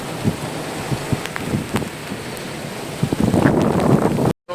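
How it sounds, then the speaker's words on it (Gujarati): Heavy rain roars with gusty windstorm buffeting the microphone on a road, the downpour swelling louder toward the end before a brief cutout. "જો નીકળ્યા ને વાવાઝોડું જોરદાર"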